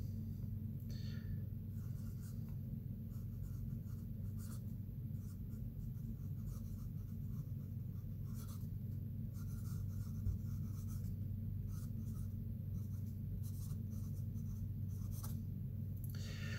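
A 5B 1.1 mm Legendary Lead Company pencil lead scratches steadily across tan paper, a soft, continuous, close-up scribbling with small rhythmic strokes over a low background hum, no talking.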